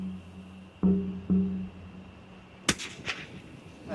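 A single sharp rifle shot fired outdoors in Australia as a hunted animal is brought down by a headshot for meat, a loud crack with a short echo after a faint low hum and two dull thumps; no talk.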